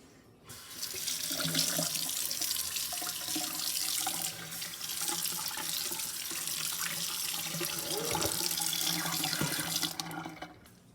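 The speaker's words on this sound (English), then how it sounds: "rinse out your sink to get rid of any food or dirt that might be in your sink" Tap water runs hard into a kitchen sink as it is rinsed out, a loud, steady splashing stream lasting about ten seconds that starts and stops abruptly, with no talking.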